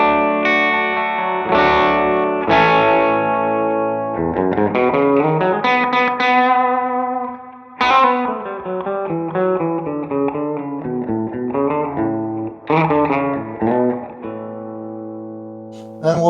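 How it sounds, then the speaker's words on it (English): An electric guitar played through a Donner Versa Yellow Fall II reverb pedal, ringing chords and picked notes with a lush, washy tail between phrases. "We'll turn on the reverb, and we'll do the same for the reverbs."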